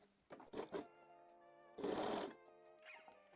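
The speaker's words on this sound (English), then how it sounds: "I can stitch the neckline once more" A sewing machine stitches the neckline of a wire-free bralette with darts in two short, close bursts of whirring, set over a steady background hum.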